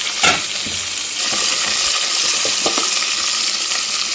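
Chopped onion and green chillies fry in a hot pan, giving a loud, close, continuous sizzle, with a sharp clatter near the start and a few faint stirring clicks after.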